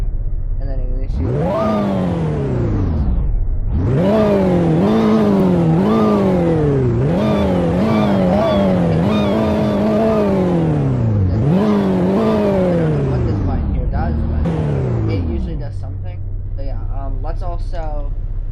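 A car engine in the Roblox game Greenville, in manual mode and first gear, revs repeatedly in loud rising sweeps, about eight climbs in a row that each bounce off the limiter before dropping back to idle.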